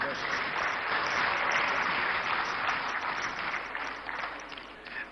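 An audience at a national economic dialogue applauds a woman entrepreneur, with soft, even clapping heard at a distance that carries steadily and tapers slightly toward the end.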